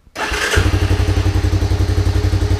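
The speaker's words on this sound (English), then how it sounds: "Cold start." A 1985 Honda Big Red ATC 250es ATV engine cold starts without choke, cranking briefly and catching, settling straight into a loud, steady, pulsing idle close by.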